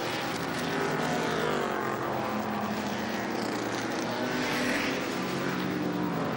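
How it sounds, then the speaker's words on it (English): A Ferrari 250 GT races around the Goodwood circuit in the 2005 RAC Tourist Trophy celebration, its engine a loud, sustained roar that holds steady and swells slightly midway. "That's one of the 250 GT Ferraris."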